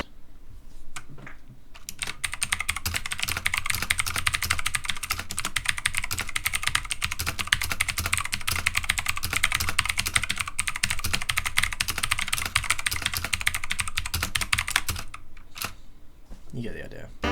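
Rapid, steady typing on a mechanical keyboard fitted with clicky blue switches, a dense run of sharp clicks lasting about fifteen seconds, close to the microphone, with quiet pauses at the start and end.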